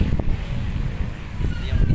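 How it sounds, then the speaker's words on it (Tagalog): Strong outdoor wind gusts buffet the microphone in a low, rumbling roar that holds steady throughout the short moment with no speech. "Lakas ang hangin."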